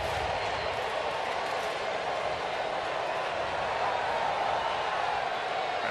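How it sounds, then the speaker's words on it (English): A sellout crowd at T-Mobile Park during a Mariners–Cleveland baseball game roars steadily as fans do the wave, a dense, continuous wash of cheering that stays loud and even throughout. "Crowd energizing itself, doing the wave."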